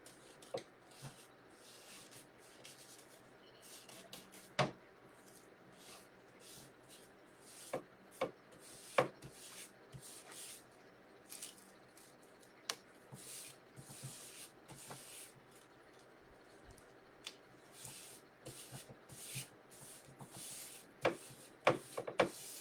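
Mod Podge-coated paper is smoothed by hand onto a white pumpkin in quiet, soft rubbing and brushing strokes, broken up by scattered sharp crinkles and taps close to the microphone.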